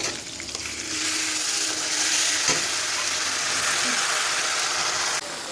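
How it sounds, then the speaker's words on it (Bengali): Spice paste frying with onions in a pan gives a loud, steady broadband sizzle throughout, with a brief clatter midway and a slight drop near the end, and no talking. "পেঁয়াজগুলো হালকা ভেজে, তারপরে পেস্ট করা মশলাটা দিয়ে দিব"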